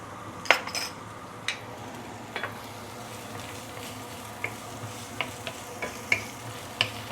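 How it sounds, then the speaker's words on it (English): Garlic, ginger and spring onion sauté in a pan with a soft steady sizzle, punctuated by a series of sharp utensil clinks and scrapes against the pan, close and without speech. "We shall saute this for a minute or two before we continue."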